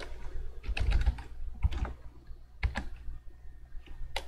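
Typing on a computer keyboard while writing C# code, with bursts of close key clicks and pauses in between, no voice.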